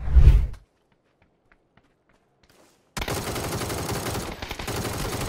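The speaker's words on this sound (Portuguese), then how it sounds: "Ele deu muito tiro nele, velho." Gunfire in the battle-royale game PUBG: a short loud burst at the start, then near silence with faint clicks, before a dense stretch of continuous shooting and game noise takes over.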